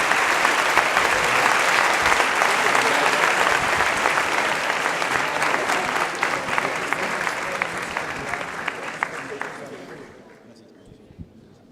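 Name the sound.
audience applause for the panelists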